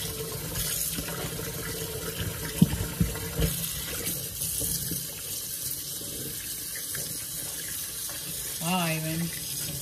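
Tap water runs steadily into a sink while bleach is rinsed out of a reverse tie-dyed shirt, with a soft continuous splash, a few sharp knocks and handling sounds, and quiet voices in the background.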